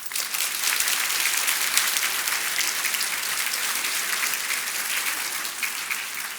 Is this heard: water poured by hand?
no